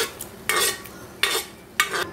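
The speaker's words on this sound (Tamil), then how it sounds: "நம்ம பருப்பை சேர்த்ததுக்கு அப்புறமா நல்லா மிக்ஸ் பண்ணி விட்டுக்கலாம்." Mashed dal stirred into cooked bottle gourd kootu in a pot: three separate bursts of spoon scraping and sloshing, loud and close, with short pauses between.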